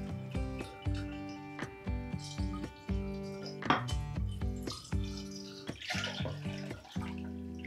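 Water splashes and gurgles inside a glass kefir jar being rinsed out, coming in short rhythmic bursts with ringing, pitched tones, close and clear with no talking.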